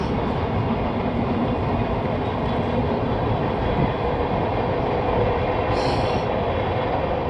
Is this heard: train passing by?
yes